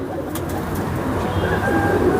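A pigeon held in the hand, its wings clipped, gives low, steady cooing that runs continuously through a busy, noisy background, with no talk over it.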